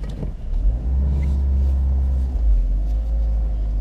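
A VW Saveiro with a 1.6 engine runs steadily while driving gently, a loud, continuous low rumble from close by with only slight swells in revving and no talk.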